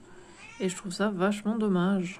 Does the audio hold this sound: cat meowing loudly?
yes